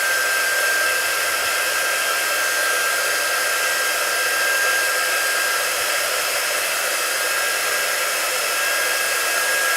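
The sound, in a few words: hair dryer drying a chalk transfer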